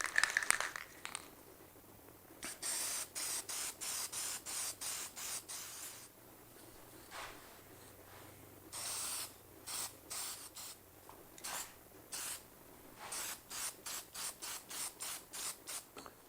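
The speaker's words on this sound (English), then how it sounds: "I'm using Rust-Oleum lacquer here, spray lacquer, for a high luster coat" Rust-Oleum spray lacquer hissing from an aerosol can onto a handmade cigar travel case, many short close bursts in a quick uneven rhythm, with brief pauses and faint rattling between passes, no voices.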